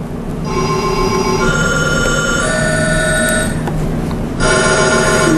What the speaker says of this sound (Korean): 네, 전화벨 소리로.